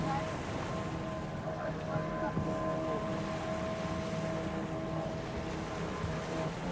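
Several boats speeding across the open sea off India during a whale shark hunt, with a steady engine drone and rumble over wind and waves, heard from aboard at an even, moderate level.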